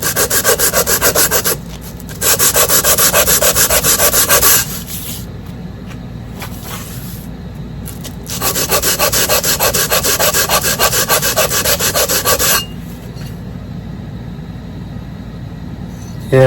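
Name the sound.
hand sanding scratches off a flat surface of a 1953 outboard motor part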